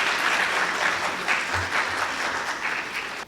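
A mushaira audience gives steady applause for its poets, a dense wash of many hands clapping alone for about three seconds before cutting off abruptly.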